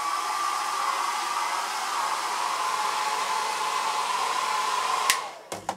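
A hair dryer blows steadily on a silver-solution coated print in an artist's studio, a continuous close whooshing hiss for about five seconds before it is switched off, followed by a few brief knocks and clicks.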